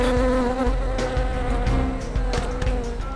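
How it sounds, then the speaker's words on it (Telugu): Many flies buzzing in a dense, continuous drone, loud and close, heard alone without talk, in a scene from a TV crime drama episode. "ఇక్కడ ఎన్ని ఈగలున్నాయండి"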